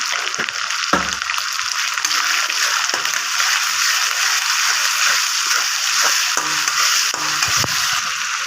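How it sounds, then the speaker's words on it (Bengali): Tomato and fish being sautéed and stirred in a frying pan for a curd-style fish curry, a steady broadband sizzle with occasional soft scraping of the spoon against the pan. "এবার আমি এটাকে ভালোভাবে কষিয়ে নেব"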